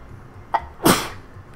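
A single sharp sneeze bursts out near the microphone during a casual gaming session, preceded by a brief faint catch of breath, with quiet background otherwise.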